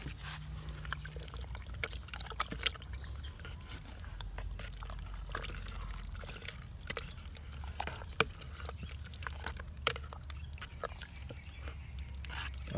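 Homemade fish amino acid liquid fertilizer is stirred in a container, giving quiet sloshing, dripping and small splashes with scattered clicks over a low steady hum.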